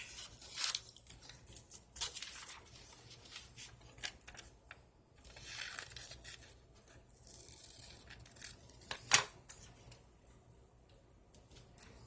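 Scissors snip a paper headshot down to size for a glue book collage, with short crisp cuts and paper rustling in scattered bursts, quiet and close, and no talking.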